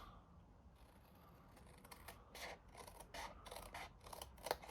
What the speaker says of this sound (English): So I'm just going to carefully go through and snip all the way down